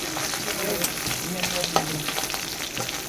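Small native fish like chunopunti sizzle in hot oil, a steady close crackle with a few light stirring clicks, with no talking.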